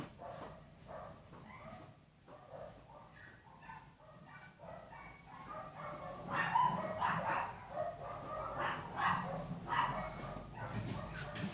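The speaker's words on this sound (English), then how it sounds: "We have the dog chorus." Several dogs bark and yip at a distance, overlapping in an uneven chorus that grows louder toward the end, with no talking.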